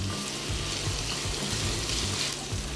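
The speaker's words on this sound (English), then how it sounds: "you just make sure that your onions and your celery are browning" Onions and celery browning in a hot pan give a steady sizzle and crackle, moderately loud and close, with faint rhythmic bumps underneath and no talking.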